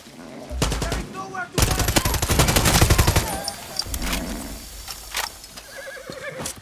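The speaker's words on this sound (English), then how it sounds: "I am going to steal your horse." Horse neighs loudly in Far Cry 6, with clattering hoofbeats and bursts of gunfire around it, a busy game mix with repeated whinnies over several seconds.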